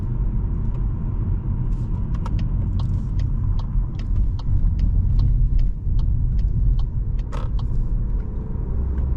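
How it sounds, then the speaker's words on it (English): Interior of a Volkswagen Golf 8 facelift with a 150 hp eTSI mild hybrid powertrain driving at night: a steady low road and engine rumble throughout, with faint clicks and creaks on top and no talking. "the drive that is so smooth, especially with this mild hybrid powertrain"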